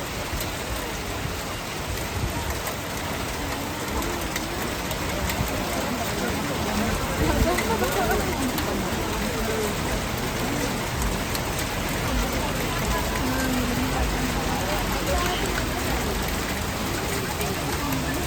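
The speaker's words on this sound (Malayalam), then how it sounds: "പെരുമഴ കണ്ടുപോയി." Heavy rain pours steadily in Ooty near a boat house, a dense continuous hiss of rainfall on surfaces that stays loud and even throughout, with faint voices mixed in.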